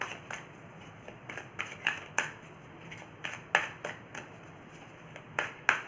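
Tarot cards are shuffled and flipped by hand, close and crisp, giving a quick run of papery slaps and riffles in an uneven, repeating rhythm over a quiet room.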